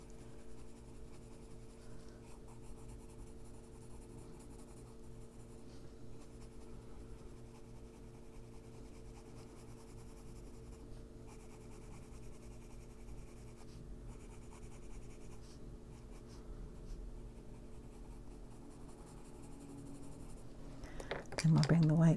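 A colored pencil scratches on paper in soft, steady strokes, quiet and continuous, ending with a brief louder shuffle.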